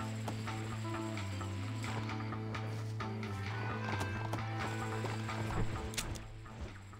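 Horse hooves clip-clopping in the Red Dead Redemption video game on PS4, a steady trotting rhythm under sustained game music and ambience.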